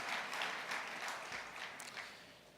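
Guests at a corporate update dinner applaud Nolita for her contribution, heard as soft, distant clapping spread through the room over a couple of seconds.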